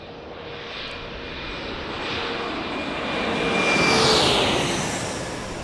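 A CRJ regional jet passes near a San Diego airport, its engine roar swelling steadily to a loud peak and then easing off, with no talk.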